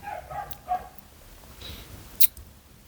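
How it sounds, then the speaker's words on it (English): Dogs bark a few times in the distance, short faint yaps in a quiet room, with no talking. "Sorry, dogs barking."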